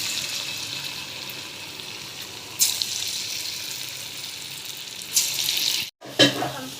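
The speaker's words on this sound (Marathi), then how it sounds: "आता हे असं असं छोटे छोटे भजी तळून घ्यायचे" Small moong dal pakoda fritters fry in hot oil over a medium flame, a continuous close hiss and sizzle that flares louder in short bursts and briefly cuts out near the end.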